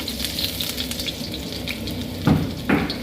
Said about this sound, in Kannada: ಓಕೆ ಈಗ ಜಿಂಜರ್ ಗಾರ್ಲಿಕ್ ಕ್ಲೀನಾಗಿ ಬೆಳ್ಳುಳ್ಳಿ ಮತ್ತು ಶುಂಠಿನ ಹುರ್ಕೊಬೇಕು